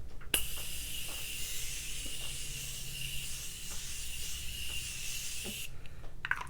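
A long, steady hiss of Morphe Continuous Setting Spray misting from a bottle onto a face, close and continuous for several seconds before cutting off.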